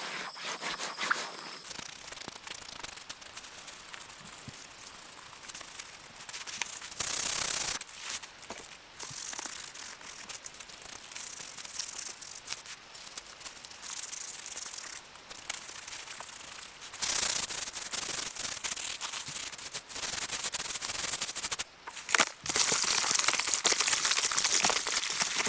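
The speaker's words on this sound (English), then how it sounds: "I don't want to over scrub it" A backpack's mesh panels are scrubbed while washing the pack, a long stretch of close, steady brushing and rubbing strokes with a few louder, harsher patches and no talking.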